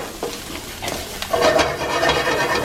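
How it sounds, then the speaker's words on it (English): Vegetables and chili seasoning cooking in a pot in a little oil, a steady soft sizzle with occasional stirring scrapes and clinks, close and moderately loud. "I'm going to go ahead and start cooking some of that seasoning"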